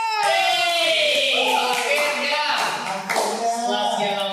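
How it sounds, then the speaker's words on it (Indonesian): Hand clapping at a casual talk-style gathering, with sharp claps scattered through a stretch of voices and music-like tones, heard close and fairly loud. "terakhir, tepuk tangan dulu dong"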